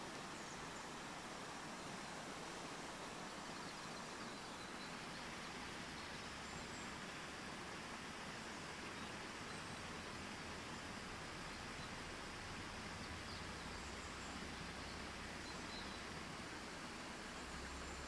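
Steady broadband rush of the Tâmega river flowing, a continuous even wash of water that stays at the same level throughout with no voices.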